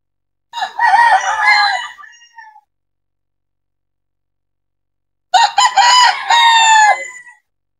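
Young roosters in the sale area of a large gamefarm crow loudly and close by, with two long cock-a-doodle-doo calls separated by a few seconds of silence.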